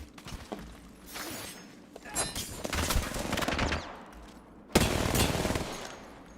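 Gunfire in the video game Apex Legends: rapid automatic bursts and repeated shots during a firefight, with a loud sharp burst near the end and dense crackling between, no talk over it.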